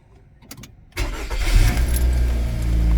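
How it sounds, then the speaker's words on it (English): A car engine starting: a few faint clicks, then the starter catches and the engine roars to life, settling into a loud, steady idle, close up. "we're going to start the car."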